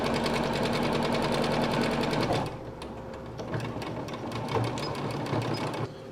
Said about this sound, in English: We're just going to fold it over and stitch it down so it's flat.